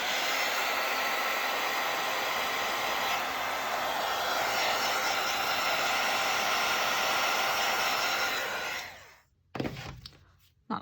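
A handheld dryer blows steadily on wet paint in an insect art journal, a loud continuous whir that cuts off near the end, followed by a few faint handling knocks.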